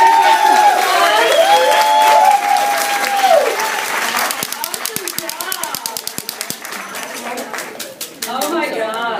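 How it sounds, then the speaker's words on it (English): After a short burst of overlapping talk, a live cooking-show audience breaks into applause and cheering, with close, sharp individual claps standing out through the middle and voices returning near the end. "Let's give a round of applause."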